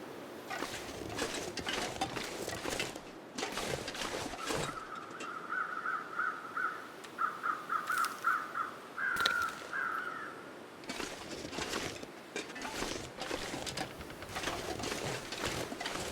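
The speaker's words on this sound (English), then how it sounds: "I hear crows" Crows cawing in the video game The Long Dark, a run of harsh repeated calls in the middle, set against a steady ambient bed with broadband bursts before and after.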